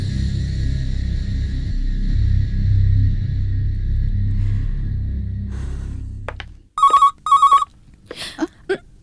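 A phone rings in a Hindi Bollywood romantic drama with two short, sharp electronic ring bursts. A low rumbling background fades out just before the rings, and a few faint sounds follow.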